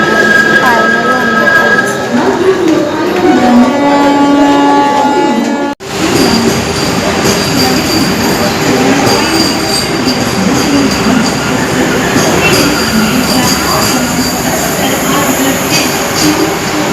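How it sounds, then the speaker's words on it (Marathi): A Vande Bharat train at a railway station, its loud, continuous rumble and rolling wheel noise filling most of the stretch after a brief tonal, voice-like passage at the start. "वंदे भारत. आता आम्ही चढू ट्रेनमध्ये."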